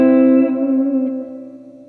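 Electric guitar through an EarthQuaker Delay Kaleidoscope N2 Audio pedal set for long reverb, a sustained chord ringing out and slowly fading into a lush wash of echoes, alone with no talking.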